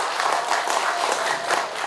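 Audience clapping steadily in a hall during a Buddhist dharma transmission ceremony, a dense, even wash of many hands applauding at close range.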